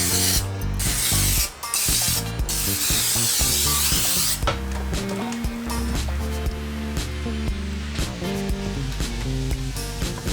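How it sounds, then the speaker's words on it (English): A loud hissing burst of cooking oil spray onto a baking pan for several seconds, with a brief pause early on, followed by clattering and handling noises of the pan. "We're gonna add some spray oil"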